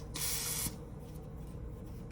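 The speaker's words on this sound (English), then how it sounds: "We're going to spray that down." A single short burst of aerosol lubricant spray hisses close by onto a vintage Case XX straight razor for about half a second, followed by a low background hum.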